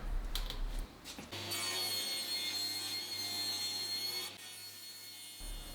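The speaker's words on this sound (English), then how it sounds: "So you have to slow down the RPM so that it has time to actually sand the material away." Power sander working pallet pine wood at slowed speed, a steady whirring grind with a low motor hum, starting after a short knock and stopping near the end, no talk.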